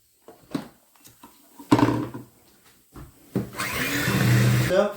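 Knocks and clatter give way to a blender motor roaring loudly and steadily for the last stretch while whipping plum cake batter.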